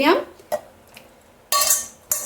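Cooled tomatoes dropped into a mixer jar in a home kitchen, a handful of close clinks and knocks of the jar and a spoon, with brief clattering bursts near the end.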